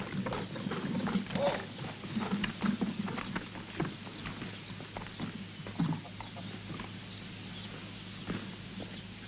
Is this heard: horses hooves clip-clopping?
yes